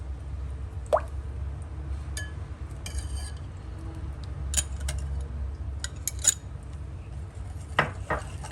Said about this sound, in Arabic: نقلب كده جامد، وبعدين هنحط الزبده برضو معاهم كله مع بعض